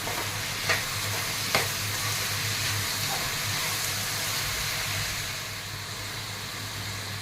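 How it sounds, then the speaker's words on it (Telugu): Tomatoes frying in a pan with onions for an egg curry, a steady soft sizzle with a couple of brief clinks near the start, continuous and close with no talking. "ఇప్పుడు టమాటాలు కూడా వేసేస్తున్నాను ఇందులోనే టమాటాలు కూడా బాగా ఫ్రై అవుతాయి"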